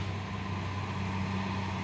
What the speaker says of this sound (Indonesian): Masuk lagi truk trailer Hino 500 membawa paku bumi